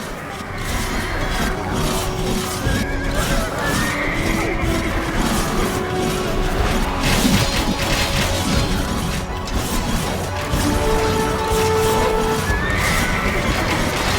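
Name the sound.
horses galloping in video game battle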